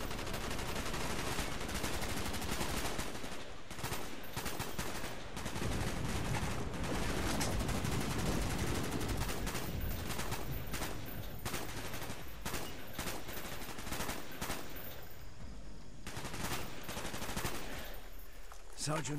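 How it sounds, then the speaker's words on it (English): Sustained automatic and rifle gunfire roars almost without pause through a Vietnam-era firefight in the Call of Duty: Black Ops mission Victor Charlie, with dense bursts layered over loud battle noise. "Who are you shooting at, Woods?"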